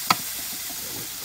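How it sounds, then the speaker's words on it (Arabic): Onions fry in a pan with a steady, close sizzling hiss. A single sharp clink of a utensil sounds near the start. "وش اللي حمر البصل حمرته"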